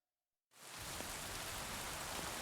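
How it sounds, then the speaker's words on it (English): Hail starts falling abruptly in the video game Kingdom Come: Deliverance 2, after a brief silence, then becomes a dense, steady, hissing patter that continues loud and unbroken. "What was that sound? What? Hail!"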